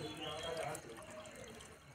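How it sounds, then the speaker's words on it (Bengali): Water pours into a pot while food is prepared at an evening winter picnic, a short splashing, trickling flow that eases off, with a voice speaking over it. "জল একটু দিয়ে দিতে হবে।"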